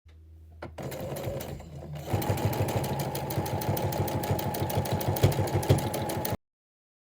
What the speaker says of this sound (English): now I'm going to sew from here up to here